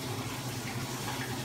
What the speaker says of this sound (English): we're gonna fill the machine with water